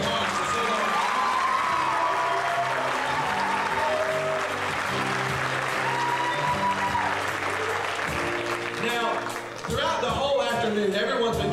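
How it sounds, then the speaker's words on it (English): Audience applause for hosts and hostesses at a university jamboree, sustained and dense clapping from a large crowd, steady and fairly loud for the whole stretch. "let's have a warm round of applause for those hosts and hostesses who have worked so very hard"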